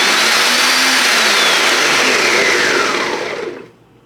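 A food processor with its cover on chops ingredients, a loud close motor whir that runs continuously for several seconds and then spins down to a stop.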